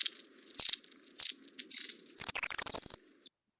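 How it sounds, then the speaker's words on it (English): Long-tailed tit calls: a run of thin, high, scratchy chirps in quick bursts, ending in a longer trilling buzz, close and clear against a quiet background. "There's a lot of giggles, there's a lot of laughter in the long-tailed tit call, but it's scratchier."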